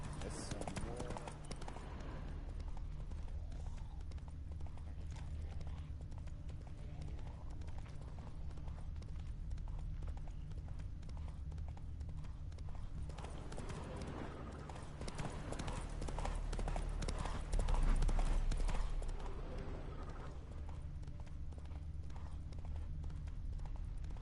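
Horse hooves gallop in a steady, continuous clip-clop rhythm in the video game The Witcher 3, mixed with game ambience and music and a voice talking over them, swelling slightly louder near the end.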